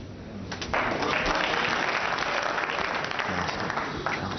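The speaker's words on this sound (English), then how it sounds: "Crowd are buzzing now." Snooker crowd at a World Championship match applauding during a 147 maximum break, clapping swelling quickly to a full, sustained round from a large audience, loud and close, then holding steady to the end.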